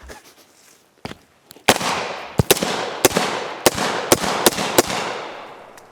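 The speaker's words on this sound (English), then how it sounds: "I get to shoot him again." Home defense rounds are fired in a rapid string of about ten sharp, loud shots, a few faint pops first, then closely spaced cracks over a few seconds, each trailing into a noisy decay.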